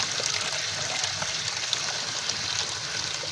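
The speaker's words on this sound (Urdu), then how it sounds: "ابھی ہم اس میں ڈالیں گے، اس طرح پانی ڈالتے ہیں" Water poured steadily into a container for an acid cleaning of copper wire and sheet, a continuous close gushing splash with no talk over it.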